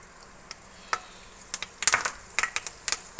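Curry leaves drop into hot coconut oil ahead of frying tuna, giving scattered pops and short crackling sizzles that thicken into a busier spatter toward the end.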